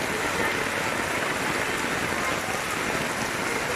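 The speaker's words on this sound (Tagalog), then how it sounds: "guys tuloy ang buhos ng ulan" Loud, dense downpour with a constant roaring hiss of rain hitting surfaces close by, unbroken throughout and without voices.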